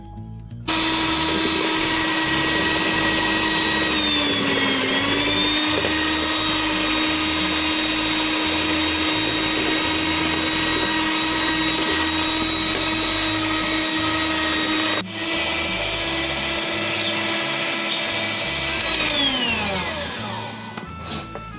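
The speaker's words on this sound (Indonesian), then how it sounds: "selanjutnya saya akan memblender dengan kecepatan tinggi ya" Electric mixer whirring steadily at high speed through pandan steamed sponge cake batter, a loud constant motor whine that dips briefly in pitch midway and winds down at the end, with no talking.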